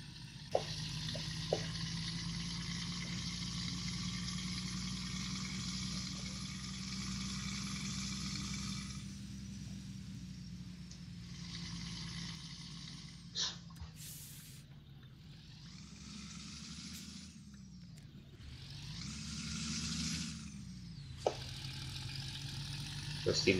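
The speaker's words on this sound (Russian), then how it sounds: "этой машины, этого грузовика Мерседеса. Звук, ребята, вообще приятный, послушайте только." Mercedes LPS 1632 truck in Euro Truck Simulator 2, its engine droning steadily at low pitch, rising and falling with revs, with hissing air bursts and brief clicks over a continuous hum; someone talks intermittently.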